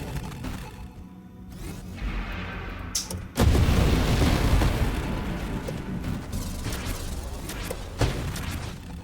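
A flak barrage fires in a video game: a heavy boom hits, then a dense rumbling roll of artillery-like blasts carries on, with scattered sharper bursts and whooshes.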